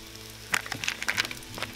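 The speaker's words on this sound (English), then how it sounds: "We're just gonna toast our buns real quick." Burger buns toast in butter on a Weber griddle, giving a short burst of faint, close crackling and popping sizzle over a low background hum.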